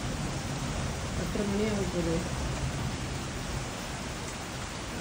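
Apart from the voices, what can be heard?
heavy rain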